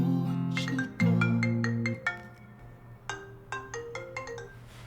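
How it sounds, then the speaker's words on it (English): A phone ringtone plays a bright, melodic repeating pattern of tones, loud and close, with no talk over it. "Why are you ignoring your phone?"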